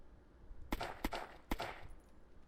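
Gunfire in the zombie survival game Unturned: three sharp, separate shots in quick succession, each with a short decaying tail, rather faint over a quiet background.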